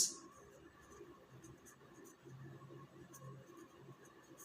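Marker or chalk writing on a board during a mathematics lecture, faint scratchy strokes against quiet room tone with no talking.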